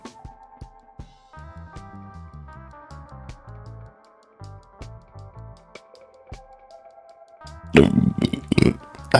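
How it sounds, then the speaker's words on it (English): A loud, rough burp erupts near the end, standing out sharply over quieter background music from a game stream. "I burped."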